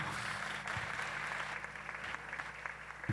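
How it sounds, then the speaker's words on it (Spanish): A church congregation claps together in steady, sustained applause that fills the room, with a low hum and faint voices running beneath the clapping. "Denle un fuerte aplauso a Jesús"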